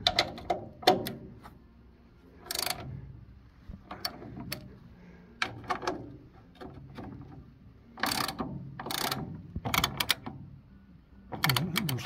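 A spanner tightens nuts in a series of close ratcheting clicks and short metallic turns, coming in irregular bursts with quiet gaps between them and no talk.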